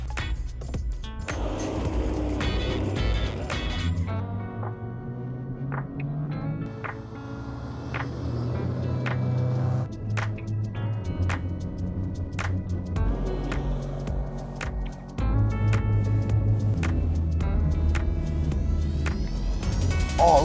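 A Snowverlander snow vehicle, a giant adult-sized machine likened to a kid's RC car, drives through winter snow near an off-grid cabin, its steady loud engine rumble running throughout with brief mechanical knocks.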